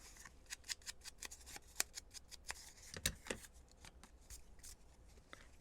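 Scissors snip repeatedly through thin decoupaged napkin paper, close and quiet, in quick irregular cuts with soft paper rustling between them.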